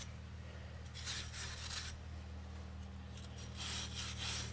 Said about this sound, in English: get the hub and clean all this excess rust off